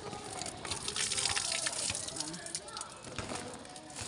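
Sea water rushes and splashes around boats as the tide rises, a steady close wash of water with a voice talking over it.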